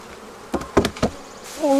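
A strong, healthy honey bee colony buzzes in an open hive, close and loud, with a few sharp bursts and a rising steady drone.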